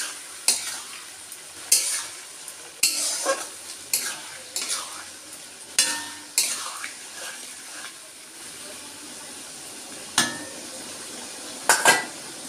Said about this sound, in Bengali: তরকারিটা দিয়ে একটু ভালো করে নাড়িয়ে নেব।